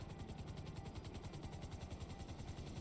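Helicopter in the video game GTA, its rotor chopping in a steady rapid beat with a droning engine, loud and continuous throughout.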